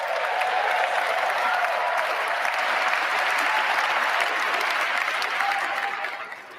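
Audience applauding at Trump's presidential inauguration speech, a dense, continuous roar of clapping from a large crowd that holds steady and then tapers slightly at the end.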